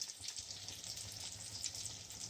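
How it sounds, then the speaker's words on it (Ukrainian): Potato pies with cabbage sizzle and crackle in a hot pan of oil, a continuous soft hiss with scattered pops, close and fairly quiet. "Шкварчить."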